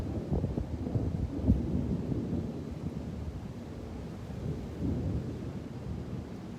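Thunder rumbles low and continuous during a storm at the beach, a deep rolling roar with wind buffeting the microphone and no voices.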